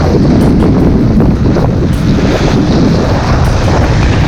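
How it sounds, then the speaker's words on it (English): Strong wind buffets the microphone on the coast during sea bass lure fishing, a loud, continuous roar with low rumbling gusts, and no voices over it. "Hopefully this wind calms down a bit."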